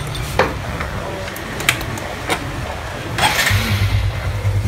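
A 2018 Honda Future motorcycle is started, with a few clicks and a brief cranking effort before the engine catches and settles into a steady low idle rumble close by, with no one talking.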